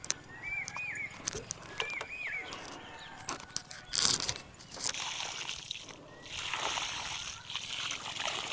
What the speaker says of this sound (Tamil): இப்போ தண்ணி ஊற்றிடுவோம்.